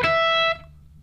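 An electric guitar with effects plays a short bright two-note figure imitating the Super Mario coin chime, ringing for about half a second before cutting off to quiet hum.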